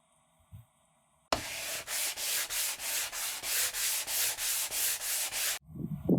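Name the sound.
sanding a saltwater aquarium tank with sandpaper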